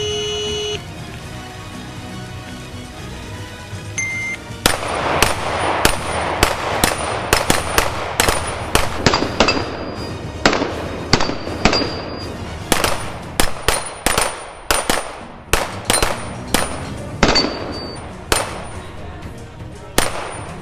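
Gunshots on steel target plates ring out as a string of sharp cracks, each followed by a bright metallic clang, starting sparse then coming quickly in irregular clusters at outdoor range distance.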